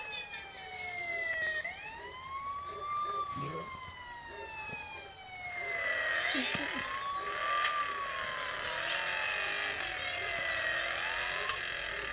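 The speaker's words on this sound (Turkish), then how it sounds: "Şöyle durdurduk polis aracımızı." Police car siren in the Car Simulator 2020 video game, a steady rising and falling wail that sweeps continuously and loudly throughout, with a brief dip midway and engine or road noise faintly underneath.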